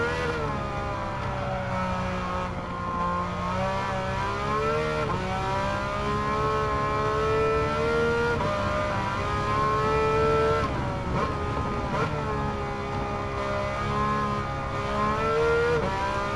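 A Porsche 911 tuned to 700PP on sports soft tires in Gran Turismo 7, its engine revving hard under throttle with rising and falling pitch across gear changes, loud and continuous throughout.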